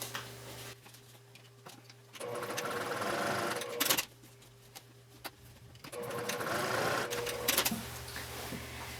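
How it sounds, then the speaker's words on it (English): A sewing machine top stitches a cork fabric seam in two bursts of fast, even whirring, separated by a pause with a faint hum. "And I'm going to top stitch from the right side."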